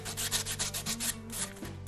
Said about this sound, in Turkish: zımparayla aldım